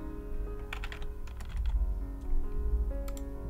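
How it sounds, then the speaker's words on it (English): Close computer keyboard typing, with irregular bursts of crisp clacks and key taps, a low steady music bed underneath and no speech. "you won't hear the keyboard clacking quite as much"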